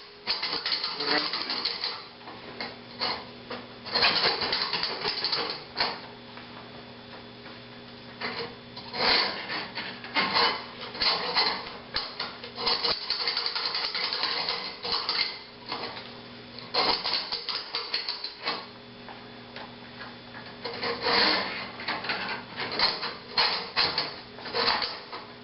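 A plumber's auger cable is pushed and worked into a clogged shower drain at home, producing irregular metallic rattles, scrapes and clunks over a long stretch, close by, with occasional talking in between.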